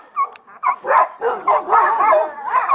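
A dog charging at police officers outside a house barks and yips in short, sharp bursts, close and loud, with whimpering tones between barks.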